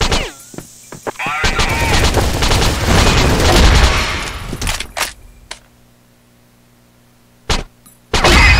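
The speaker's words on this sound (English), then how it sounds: "Flash bomb." Loud bursts and booms of video game gunfire and explosions, including a flash bomb going off, in a dense crackling volley that stops abruptly, followed by near silence and two more short sharp bangs.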